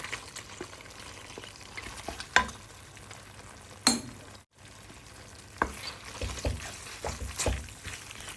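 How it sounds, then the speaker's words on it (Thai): Pork pieces hitting panang curry paste simmered until its oil separates, giving a soft sizzle with scattered scraping stirs and clinks near the pan; no voices. "พริกแกงพะแนงเราก็เคี่ยวจนแตกมันแล้วนะคะ เราก็จะใส่หมูลงไปค่ะ"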